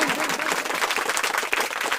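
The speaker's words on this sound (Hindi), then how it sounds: "बड़े भाई श्री मुकेश कमल जी हमारे बीच में जोरदार तालियां बजा करके स्वागत करें।" Audience at a Hindi poetry gathering breaks into brisk, lively applause welcoming a poet, dense close claps filling the short moment.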